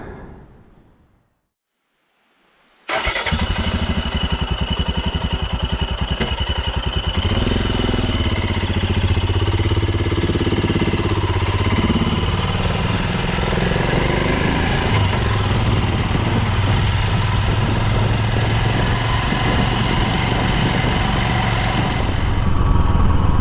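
Royal Enfield Himalayan motorcycle passing close, a loud steady engine drone that swells in suddenly after a brief quiet gap and holds throughout, likely with wind noise from riding.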